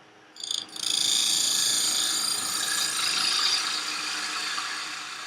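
A wood lathe spindle-turns an end-grain lidded box. After a brief knock, the tool settles into a steady, close, hissing shear against the spinning wood that fades slightly toward the end.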